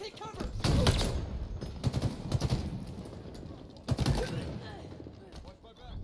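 Rapid bursts of battle rifle gunfire in Halo Infinite, loud and close, arriving in clustered volleys with short gaps, over a dense mix of game sounds.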